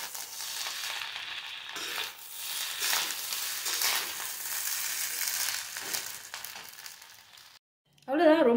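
Rice mixed with onion and tomato frying over a slow flame, a steady broadband sizzle with stirring scrapes for most of the stretch, briefly cutting out near the end before a voice comes in.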